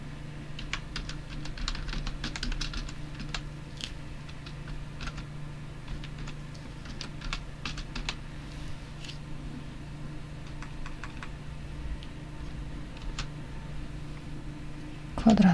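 Keyboard typing on a computer during a Zoom screen-sharing lesson, steady light clicks running throughout over a low background hum, with a voice speaking faintly in the background.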